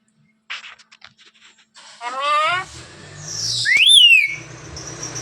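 A pet parrot whistles close by, with a rapid warbling whistle and then a sharp rising-falling whistle, after some faint taps and rustles at the start.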